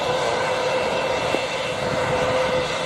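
A light aircraft engine drones steadily and loudly at Montego Bay airport in Jamaica during pilot training, a continuous close buzzing roar with no break.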